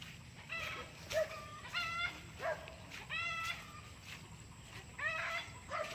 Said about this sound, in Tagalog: Alam, may aso.